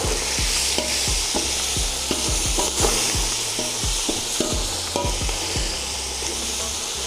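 Boiled beef for Bannu pulao frying and being stirred in a pot, a steady loud sizzle broken by repeated sharp scrapes and clanks of a ladle against metal, with no talking.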